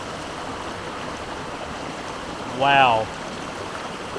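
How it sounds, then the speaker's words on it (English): A waterfall pours into Emma Gorge, a rainforest gorge at El Questro Station, giving a steady, even rush of water throughout, with a voice briefly exclaiming over it partway through. "it's the waterfall just in the back there"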